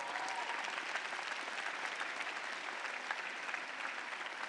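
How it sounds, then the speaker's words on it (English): Distant, even applause from a large audience at a 2017 graduate school commencement ceremony, a continuous wash of clapping that holds steady throughout. "Yes, give them that round of applause."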